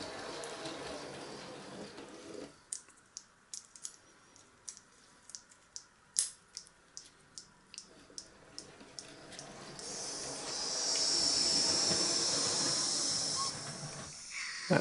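A Train Tech analog sound unit in a steampunk model railway layout plays a steam train effect: a run of rhythmic sharp chuffs over a low background, then a rising steady hiss of steam toward the end, faint overall.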